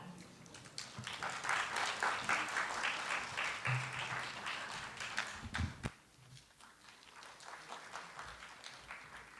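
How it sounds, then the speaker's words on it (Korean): A lecture audience at a SketchUp hanok design session gives warm applause to welcome a professor, the clapping swelling, holding, then tapering off into scattered claps and quiet room noise. "여러분 따뜻한 박수로 맞아주시기 바랍니다"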